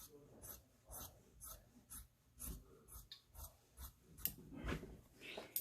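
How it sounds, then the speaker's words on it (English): Scissors trim the fabric edge of an embroidered folk cushion cover, a run of soft close snips in steady rhythm with light handling rustle between cuts. "I'm going to trim the top"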